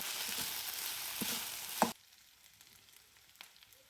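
Onions and tomatoes fry in a pan with a loud hissing sizzle and a few stirring clatters, then the sound suddenly drops to a faint sizzle with one more soft knock.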